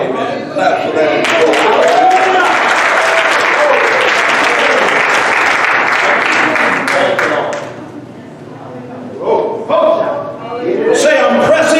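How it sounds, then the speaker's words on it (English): A church congregation applauding loudly and steadily for several seconds during a live-streamed service, then easing off briefly before clapping again, with voices mixed into the crowd noise. "Clap for that."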